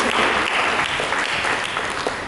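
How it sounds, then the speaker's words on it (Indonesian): A church congregation gives a dense, steady round of applause during a sermon, a continuous wash of many hands clapping at once that fills the space with little variation. "Mari kita berikan tepuk tangan pada Yesus."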